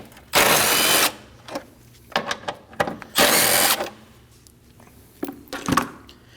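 A ratchet with a 10mm socket works bolts loose on a 2011-2016 Kia Optima, with bursts of close whirring and quick clicking ratchet strokes between pauses.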